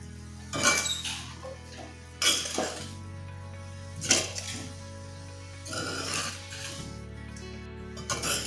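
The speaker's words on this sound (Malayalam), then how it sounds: "ഞാൻ ഒന്നുകൂടി ഇളക്കിക്കൊള്ളു." Tender jackfruit thoran is stirred in a pan: a spoon scrapes and clinks against the metal in repeated strokes about every second or two, close up and moderately loud, with no talking.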